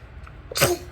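A baby's single short sneeze, a quick soft intake followed by a sharp burst close by, alone without talk.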